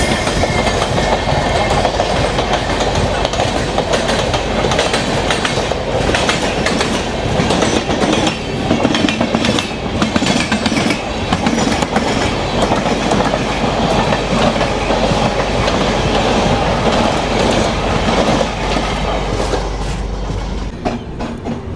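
The Chennai–Howrah Mail superfast express runs through Duvvada station without stopping, a loud continuous roar with rapid clickety-clack of wheels over rail joints heard from on board, easing slightly at the very end.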